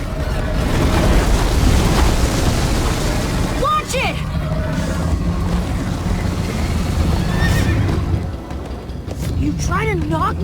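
Horse neighing and galloping in the Minecraft: Story Mode video game: several shrill whinnies rise over a loud, rumbling rush of hooves and crashing noise, with voices talking at times.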